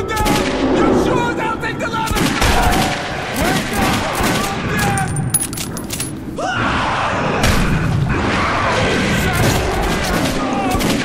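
Rapid gunfire from Metro 2033 Redux, a post-apocalyptic shooter game, rattles in dense bursts with booming impacts, near and loud, while panicked voices shout over the shooting.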